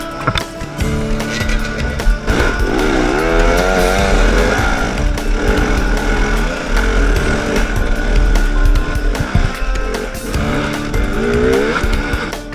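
Enduro motorcycle climbing hills and crossing logs on a technical trail, its engine revving and bogging continuously throughout, loud and close with rising and falling pitch sweeps, no talking.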